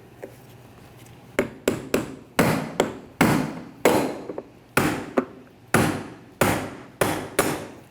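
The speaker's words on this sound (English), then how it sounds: "You can use a brass punch, and you want to turn this counterclockwise." A brass punch struck with a hammer to turn the metal fuel pump lock ring counterclockwise on a 2012-2021 Nissan NV2500 5.6L V8: about fifteen sharp metallic blows at close range in an uneven rhythm, with no talking.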